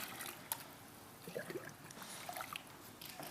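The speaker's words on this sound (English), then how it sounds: "Let's just stir that up a little bit." Filthy water stirred in a jug, soft sloshing and trickling swirls with small splashes, quiet and close, no talk.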